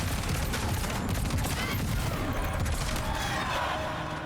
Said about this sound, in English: Twitch does not like all these fireworks